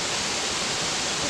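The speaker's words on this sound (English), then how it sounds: "This is a nice waterfall, but we can hardly see it." West Burton Falls in Wensleydale roars as a steady, dense wash of falling water, loud and unbroken over a brief stretch.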